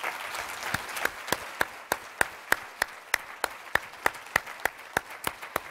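Audience applause at an Army family forum honoring a military family, a soft bed of clapping with a steady run of crisp, evenly timed louder claps standing out near the front.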